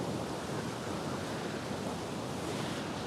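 Steady, loud wash of sea waves and wind noise at sea aboard a sailing ship, a continuous broadband rush with no breaks and no voices.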